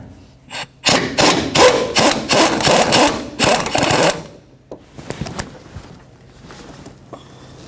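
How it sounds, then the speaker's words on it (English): Ratchet wrench loosening a 17 mm rear engine mount nut on a 2003-2007 Honda Accord, a loud, fast burst of ratcheting clicks in quick succession for a few seconds, then quieter scattered metallic handling. "Now we can remove this 17 millimeter nut."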